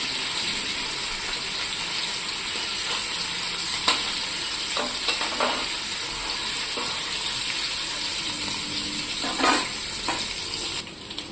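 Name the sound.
paneer frying in a pan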